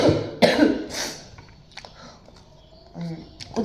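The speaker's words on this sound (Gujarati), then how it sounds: "ઉધરસ થઈ ગઈ છે" Close, loud coughs, two sharp bursts near the start followed by softer throat clearing, with a voice speaking faintly around them.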